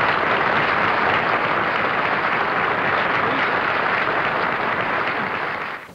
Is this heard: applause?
yes